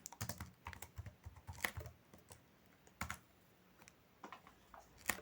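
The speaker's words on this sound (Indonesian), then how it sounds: "Jadi kita ketikkan proyeknya di sini." Typing on a computer keyboard while entering a project into Google Sheets, with quiet, uneven clusters of key clicks and brief pauses, close and faint.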